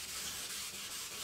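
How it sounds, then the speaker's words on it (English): Hand sanding of fresh automotive paint with varied back-and-forth strokes at a 45-degree angle: a steady, close, soft abrasive rubbing hiss that continues evenly, with no talking. "I'm using the same sanding technique as I was before, varying my sanding strokes"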